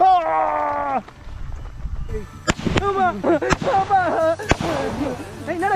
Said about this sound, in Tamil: என்ன வெடி கொண்டு போட்ட மாதிரி வெடிக்குது.